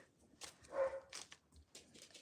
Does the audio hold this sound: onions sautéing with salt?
no